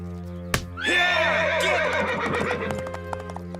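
A horse gives a long, loud whinny after a sharp thud, with hoof clatter and shuffling continuing underneath.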